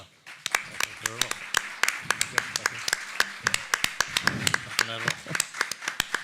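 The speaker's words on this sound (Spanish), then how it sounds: "yo pido un aplauso para Robert." Scattered hand clapping from a small group at a book forum in Seville, sharp irregular claps, with a voice talking over them.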